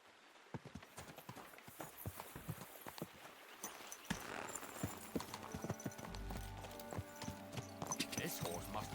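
Horse hooves clip-clop at a steady walking rhythm in Kingdom Come Deliverance 2, close and fairly loud, continuing throughout with game ambience and someone talking over them.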